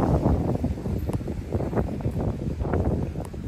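Strong gusty wind with rain at the beach buffets the microphone with a heavy low rumble that rises and falls, continuous and close, with no talking.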